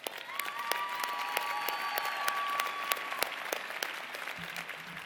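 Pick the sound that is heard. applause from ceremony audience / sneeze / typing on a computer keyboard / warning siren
applause from ceremony audience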